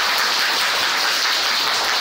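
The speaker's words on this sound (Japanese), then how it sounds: "盛大な拍手をお願いいたします" A crowd gives enthusiastic applause at the close of a live talk in Japan, a dense, even wash of clapping that sounds almost like heavy rain and holds steady throughout.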